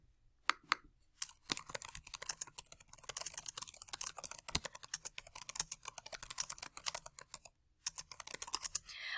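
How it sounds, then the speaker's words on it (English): Typing on a computer keyboard, a quick irregular patter of close key clicks with brief pauses between bursts. "So I could just start by typing my R."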